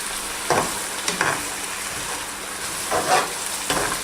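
Boiled eggs fry in a spicy masala for egg biryani, a steady close sizzle broken by several scraping stirs of a spoon against the pan, with no voices.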